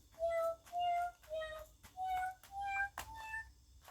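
Six electronic meow sounds in a steady sequence, each a short synthetic cat cry at a slightly different pitch, like keys on a toy piano.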